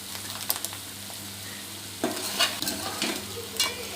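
Crab gravy being stirred and turned in a pan on the stove: a quiet, steady sizzle with a few soft scraping strokes of a spoon or spatula against the pan, louder clusters of stirring near the end.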